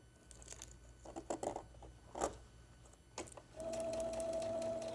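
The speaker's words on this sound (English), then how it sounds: "I can totally disconnect the foot pedal, and just by pressing start, it will sew for me." A sewing machine with its foot pedal disconnected stitches under its start-stop button while a zippered tote is sewn. Scattered handling clicks come first, then a steady, close mechanical whir runs through the final second and a half.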